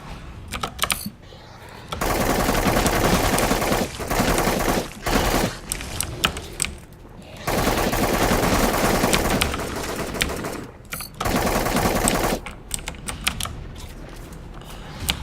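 Video game gunfire in a mining shooter with hostile prospectors, long loud bursts of rapid automatic fire separated by short gaps, with some talk.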